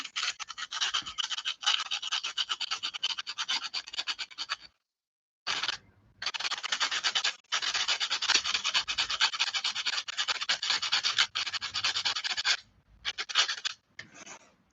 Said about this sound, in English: sand the metal where you're sticking the clay